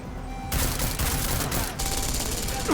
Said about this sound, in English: Oh, of course, it's a turret, right?